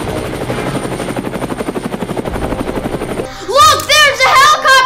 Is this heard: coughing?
no